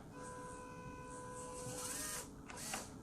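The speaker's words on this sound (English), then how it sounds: "that winch will move slow, so you can hear how slow it is" Small electric winch motor on a WPL V3 RC truck whirring slowly, a steady thin whine that holds for about two seconds, then cuts off, followed by faint handling noises.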